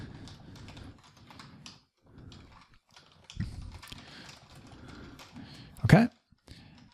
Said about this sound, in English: and you can just start typing.